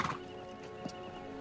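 A faint horse clip-clops a few times amid quiet background noise, with a brief soft whinny.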